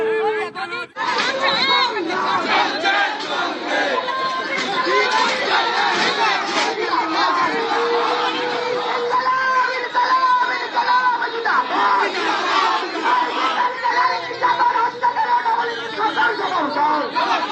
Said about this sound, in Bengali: তারা স্লোগান দিচ্ছেন যে অপরাধীরা এখনো পর্যন্ত শাস্তি পেল না কেন, জবাব তোমায় দিতেই হবে